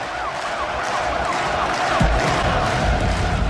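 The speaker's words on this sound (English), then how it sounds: "as they bring in the ambulance for this ambulance match" An ambulance siren wails over a noisy crowd at an indoor wrestling event as the vehicle is brought in, its repeating rising tones partly buried under cheering and a heavy low thud midway.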